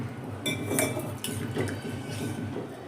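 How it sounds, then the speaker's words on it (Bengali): A potato curry with added water is stirred in a pot, with soft scraping and a few light clinks of a spoon against the metal rim, close and steady without speech. "জলটা দিয়ে একটু নেড়ে দিচ্ছি ভালো করে।"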